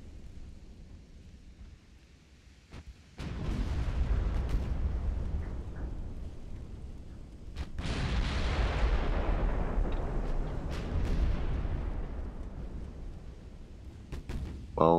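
Ship guns firing in Ultimate Admiral: Dreadnoughts, side-mounted 12-inch battleship guns: loud booming salvos after a quiet start, each blast followed by a long rumbling roar that slowly fades, with a second heavy salvo midway and sharp cracks near the end.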